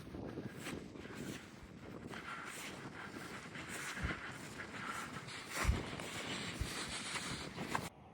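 A light, chilly wind blows across open farmland along a country path, a steady broadband rush with microphone buffeting and a few brief gusts and thumps, with no voices.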